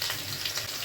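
Potatoes and cumin seeds frying in hot oil for a Bengali mixed vegetable dish, giving a steady close hiss and sizzle with no talk.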